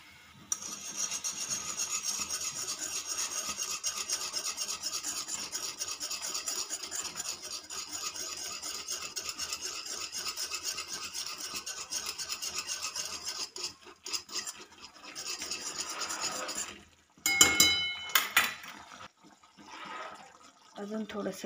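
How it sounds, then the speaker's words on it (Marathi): Gram flour (besan) being stirred into boiling water in a pot for a Maharashtrian dish, a steady rasping scrape that continues for most of the stretch before breaking off near the end, with a voice talking over it. "आता ते डाळीचं पीठ याच्यात टाकून छान हलवून घ्यायचं।"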